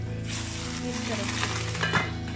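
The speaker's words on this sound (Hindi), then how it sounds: "अभी हम ये सारा तड़का लगा देंगे" Whole spices, with cardamom among them, sizzle in hot oil for a tadka tempering poured over rice for a chicken karahi and white rice meal. The frying hiss is steady and close, with brief utensil clinks and speech faintly underneath.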